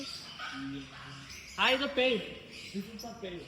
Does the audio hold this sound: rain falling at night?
no